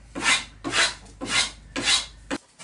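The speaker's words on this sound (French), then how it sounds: "On a poncé le mât, affiné un peu en haut, un petit peu arrondi" Sanding the wooden mast of a simplified Luxembourg-style toy sailboat, four steady rasping strokes, close and loud, then a short fifth stroke.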